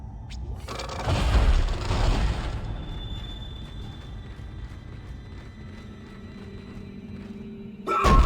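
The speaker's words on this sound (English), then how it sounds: "Alright, the force gun is ready." Force gun blasts in Dead Space on Impossible Mode: a heavy booming thud swells and decays over a couple of seconds, then a low hum lingers, with another sharp, loud impact at the very end.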